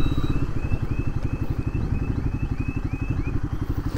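Royal Enfield Guerrilla 450 motorcycle engine running with a steady, rapid pulsing thrum, close and loud, holding an even rhythm throughout with no talk.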